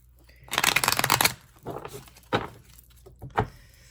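A deck of cards is riffled in a fast ruffling burst, followed by a few shorter snaps and taps as the cards are squared, close up.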